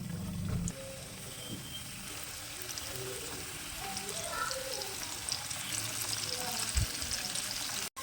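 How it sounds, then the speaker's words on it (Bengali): Chicken pieces fry in hot oil in a frying pan, giving a continuous, even crackle with a faint clatter at the start and a sharp knock near the end. "এখন চিকেনের পিসগুলো তেলের মধ্যে দিয়ে দেবো"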